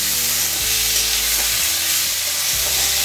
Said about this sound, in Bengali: एबार आमी डालटाके एकटु भेजे नेब।